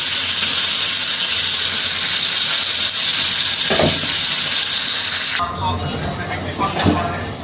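Fish sizzling loudly in hot oil in a kadai, a dense steady hiss that drops off abruptly near the end, leaving quieter kitchen sounds.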